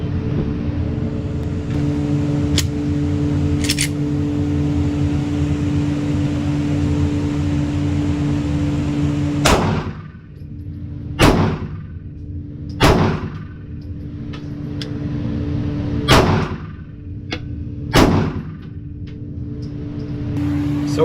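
Glock pistol fired alone at a target from 5 yards: six sharp, loud shots spaced a second or two apart over a steady low hum, with some faint clinks between.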